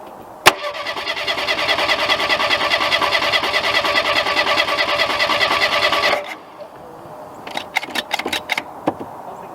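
A classic Ford Pinto is cold-started, a loud starter whirring for about six seconds before it cuts out, then a few sharp sputtering bursts as the engine tries to catch.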